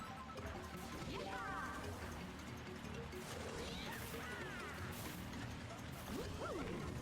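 In an online Mario Kart Wii race, a POW block strikes the racers with a crashing smash, followed by whooshing swipes and mechanical game effects over continuous kart engine drone.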